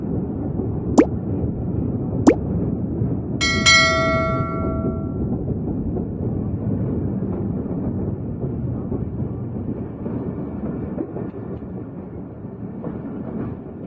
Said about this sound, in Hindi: अभी हमारी ये ट्रेन अटक खोर्द स्टेशन पर पहुंच चुकी है।